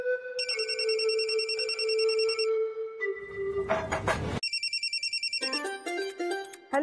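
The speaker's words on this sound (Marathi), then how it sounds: "फोन आला." A telephone rings loudly and close by in a repeating electronic melody, with a brief burst of noise in the middle before the tune resumes, and no one speaks.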